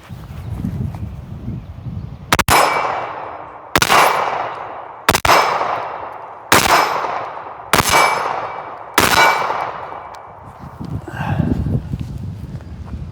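A Mossberg 930 shotgun fires slugs, five loud, sharp blasts roughly a second apart, each leaving a ringing decay, with a quieter rumbling outdoor background before and after.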